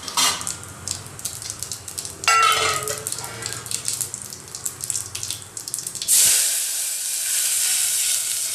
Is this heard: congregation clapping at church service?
no